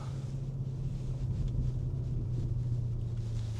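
BMW X5 M50 with its 4.4-litre twin-turbo engine, heard from inside the cabin as a steady low exhaust drone and rumble, muffled and even, with no talking.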